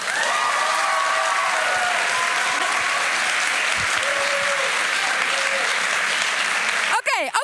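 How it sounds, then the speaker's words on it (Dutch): An audience at a Het Parool column festival breaks into loud, sustained applause, a dense wash of clapping that holds steady before fading at the end. "Ik wil het applaus die je aan jezelf zou geven."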